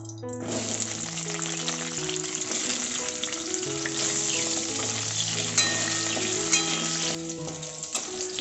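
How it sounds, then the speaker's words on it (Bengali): Pointed gourd (potol) pieces crackle and sizzle in hot oil with occasional stirring, a constant close frying hiss over a bed of background music. "ওই তেলে এবার আমি পটলগুলো ভেজে নেব"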